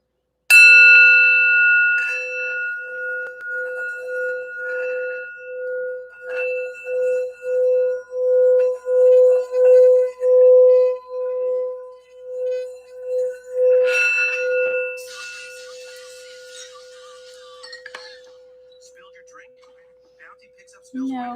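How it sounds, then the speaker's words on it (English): A sound bell rung before a tarot reading gives a long pulsing resonant tone that swells and fades in steady beats, preceded by a bright strike and followed by a second softer strike, with quiet speech near the end. "I just wanted to do the sound bell real quick to just get our energies right."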